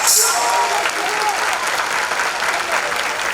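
Steady concert crowd applause in Kuşadası with many hands clapping at once, loud and continuous from start to finish, with no voices standing out.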